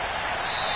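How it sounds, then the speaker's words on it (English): Cleveland football crowd at a Browns wildcard playoff game, a dense, loud wash of cheering and applause that holds steady through the brief moment. "this Cleveland crowd, the dog pound in particular, make it difficult on opposing offenses"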